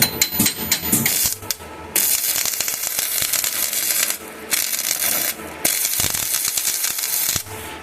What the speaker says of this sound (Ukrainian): Працює, але дуга така собі, скажімо